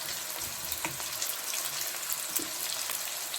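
Small onions dropped into hot oil for a mutton kofta biryani fry with a steady, close sizzle, and scattered crackles and pops come through the constant hiss.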